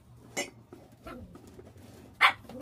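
A pet dog barking for attention indoors, two sharp barks with a softer yelp between them, loud and close over a low background hum.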